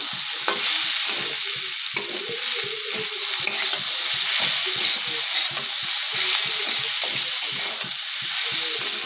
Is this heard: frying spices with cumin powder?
yes